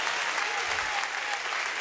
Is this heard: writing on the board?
no